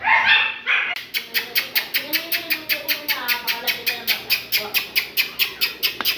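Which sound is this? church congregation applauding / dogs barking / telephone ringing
dogs barking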